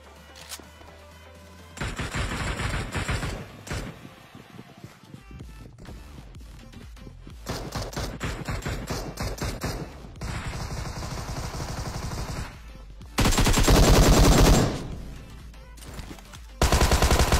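Bursts of AKM rifle fire from PUBG at close range, with loud rattling volleys separated by gaps and quieter game mechanisms and movement sounds between them.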